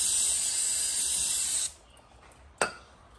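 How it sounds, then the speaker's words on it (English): Brake cleaner sprayed onto a rear brake rotor of an Acura TLX: a loud, steady aerosol hiss lasting about a second and a half, then stopping, followed by one short extra burst of spray. "brake cleaner"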